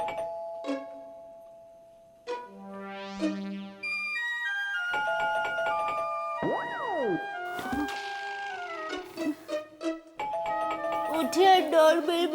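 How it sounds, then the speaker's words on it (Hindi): A two-tone doorbell chime rings clearly, followed by a bright electronic jingle with swooping tones, then layered music and sound effects. "उठिए, डोरबेल बज रही है।"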